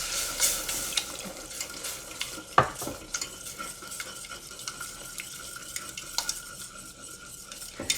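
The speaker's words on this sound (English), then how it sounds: "Really make sure to whisk that." Whisking a mixture for white lobster soup in a pot makes quick, scraping clinks of metal against the pan, a busy rhythmic rattle with a few sharper knocks over a low kitchen hum.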